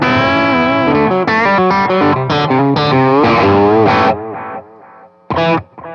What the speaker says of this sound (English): let's move over to the True Tone H2O chorus and echo pedal. So I'm gonna start with the echo side